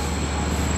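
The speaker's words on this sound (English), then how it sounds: "I hear a diesel train down here" A diesel train idles at a station with a low, steady engine rumble and a constant high whine, close and loud through a short stretch without talking.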